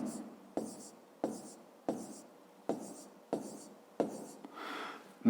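Pen strokes on paper during a fifth-grade maths exercise, seven or eight short scratchy bursts in a steady rhythm, each followed by a brief pause, close and quiet, with no talk.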